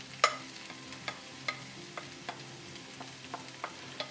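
Onion and Blumenau sausage fry in olive oil in a pan, a faint steady sizzle broken by soft, irregular scraping taps of stirring, heard alone and at low level.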